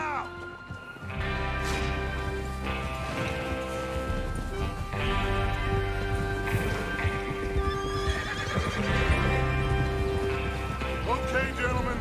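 Horses in Red Dead Redemption 2 whinny and neigh repeatedly over steady clopping hooves, loud and close, woven into a dense, continuous game soundscape.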